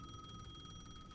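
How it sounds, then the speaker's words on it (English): A payphone rings at the edge of a plaza in the video game Alan Wake II, a faint steady electronic bell tone held throughout with no voices. "The payphone at the edge of the plaza was ringing again."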